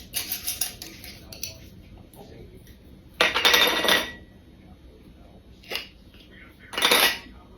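Dried herb and spice jars, parsley and basil among them, opened in a home kitchen: a few sharp clinking and rattling bursts of lids and glass with quiet pauses between, close and moderately loud.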